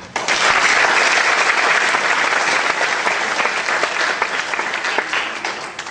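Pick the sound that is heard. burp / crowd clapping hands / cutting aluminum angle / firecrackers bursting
crowd clapping hands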